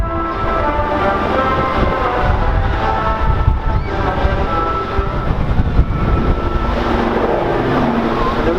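Loud, continuous roar of aircraft flying in formation at the Bournemouth air show, broad engine rumble with a steady droning tone that holds throughout, close and without talk.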